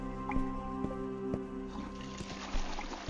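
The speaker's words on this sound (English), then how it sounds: "faucet over here is dripping." Water drips from a bathroom faucet in the video game Tales of the Neon Sea, a few sharp, evenly spaced drops ringing over a steady low background hum.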